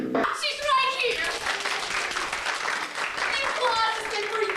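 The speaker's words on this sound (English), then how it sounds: "The applause has been for you!" Audience applause fills a high school theatre company's stage play, a broad steady wash of clapping that carries through the whole stretch, with actors' voices speaking over it.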